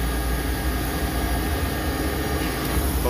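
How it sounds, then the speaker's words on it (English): A refrigeration compressor runs inside a two-door commercial freezer with the evaporator fan unplugged, giving a steady, broadband mechanical hum and whir that stays constant and fairly loud throughout, with no talking. "But wait, the compressor's still running."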